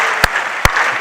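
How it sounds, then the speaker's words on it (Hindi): Audience applause at a Haryanvi poetry recital, a steady wash of clapping from a crowd that runs through the whole moment, loud and continuous. "ताली बजा दो जरा इस बात पे साहब"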